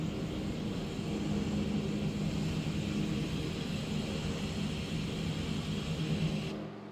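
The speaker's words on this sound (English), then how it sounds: "We're going ahead, take off at 85 knots." A Breitling DC-3 vintage propeller airliner on its takeoff roll at Obihiro, Japan, engines droning in a steady, loud, close rumble that holds throughout before cutting off abruptly at the end.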